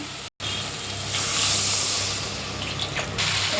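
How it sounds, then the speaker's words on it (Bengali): Water is poured into a fried spice paste in a pan while cooking a Bengali fish curry with potato and radish, making a steady close gush and sizzle that swells briefly and keeps going after a short break at the start. "মশলাটা কষা হয়ে গেছে এবার এর সঙ্গে আমি জল অ্যাড করে দেবো"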